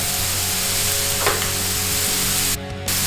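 Minute steaks fry in a hot pan for homemade Big Macs, a steady loud sizzle that continues throughout with a brief scrape or stir near the middle.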